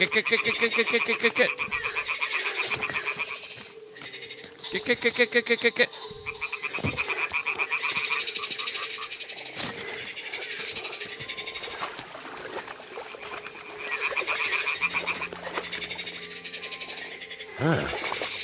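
Toads in the video game Kingdom Come Deliverance 2 give rattling, trilled croaks in repeated bursts separated by quieter gaps, fairly close and loud, with occasional sharp clicks and other ambient game noises between calls.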